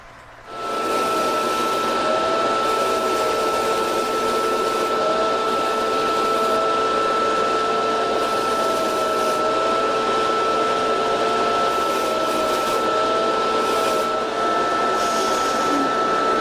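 A polishing machine works on a ring mount, giving a loud, steady whirring hum with a thin high whine that runs unbroken, only faintly shifting as the piece is pressed to the wheel.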